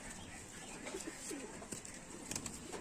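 A closed-tail pigeon from a wild bloodline coos faintly in a few low, soft phrases against a quiet background.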